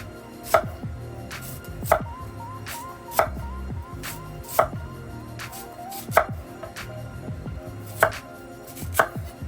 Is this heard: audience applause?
no